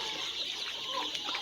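Twelve-day-old layer chicks in a poultry shed give faint, high, rapid peeping and soft clucking, a quiet, continuous chatter from several birds.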